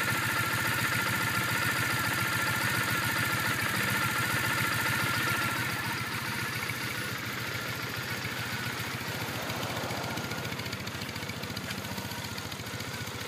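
A 2008 Triumph Bonneville T100 motorcycle engine, recently given a valve adjustment, idles close by with a steady, even mechanical rumble that eases slightly in loudness partway through and goes on without any talking.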